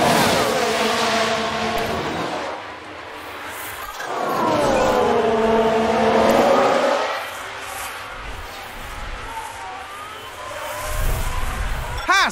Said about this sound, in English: Haas with an overtake there.